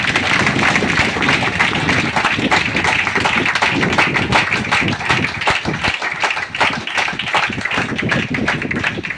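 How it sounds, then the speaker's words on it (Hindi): Dense, sustained clapping from a crowd at a branch meeting, steady and loud throughout with rapid overlapping hand claps and a few thumps, no talk. "जोड़ा तालियां से दीजिए"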